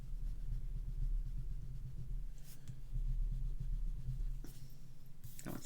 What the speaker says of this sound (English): just flip your card over and smooth it back out.